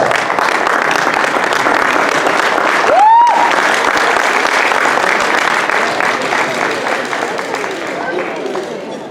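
An audience at a masquerade ball gala fundraiser in a ballroom claps loudly and steadily, dense applause filling the room, with a brief whistle-like tone and a short break early on before the clapping continues and slowly fades.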